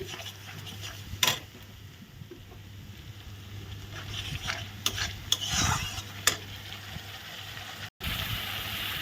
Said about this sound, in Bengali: জিরা লঙ্কার গুঁড়ো দিয়ে দিলাম এখন ভালো করে মিলিয়ে নিচ্ছি